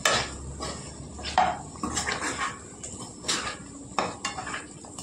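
Chicken is tossed with garlic chili paste and green chilies in a pan, giving clattering spoon-on-pan scrapes and clinks in uneven bursts, close and moderately loud with only a faint sizzle beneath.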